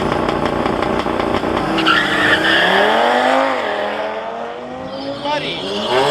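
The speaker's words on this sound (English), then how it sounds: "This guy's doing a burnout on a spare tire." A BMW 335i doing a burnout on a spare tire, with a loud continuous tire squeal and revving engine whose pitch sweeps down and back up, close by, with voices underneath.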